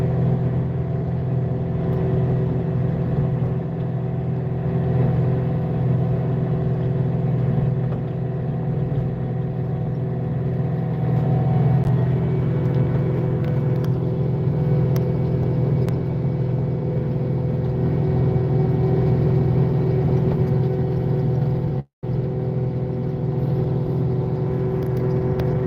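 A Caterpillar 259D3 with a rototiller attachment tills soil, its 70-horsepower engine droning loud and steady with a low hum and whirring drive, briefly cutting out near the end.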